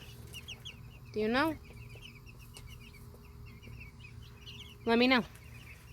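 Little chickens clucking in a coop area, with two short, loud bursts of rising calls under a steady background of soft bird chatter, a voice speaking briefly between them.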